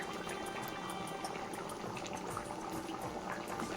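Mung dal with coconut and fish head simmers in a pot, a soft continuous bubbling with gentle pops, heard close and quiet with no speech.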